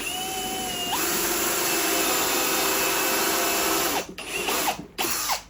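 A countersink bit spinning in a power drill, cutting a small dimple for a screw head in an RC airplane canopy part: a steady, loud whine for several seconds, then a few short bursts as the drill stops and restarts.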